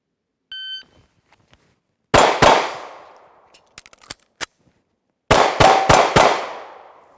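A SIG P365 pistol fires from concealment, with a reload between strings. A timer beep comes first, then two sharp close shots, a pause filled with handling clicks, and then a rapid string of four more shots.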